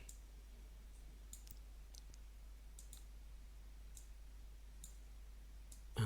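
A computer mouse clicks in faint, sharp, isolated taps every second or so against a quiet background with a low steady hum.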